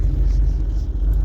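A Mitsubishi 2.6 4G54 four-cylinder engine in a Dodge Challenger runs with a steady, loud low rumble close by, heard alone without talk.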